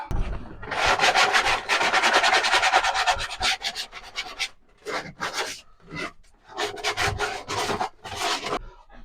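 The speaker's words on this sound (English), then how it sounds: "Now let's get it cleaned up and sanded smooth." Wood is hand-sanded smooth around a freshly cut pass-through opening, with rapid rasping strokes up close, first a long continuous burst and then shorter, separated strokes with brief pauses.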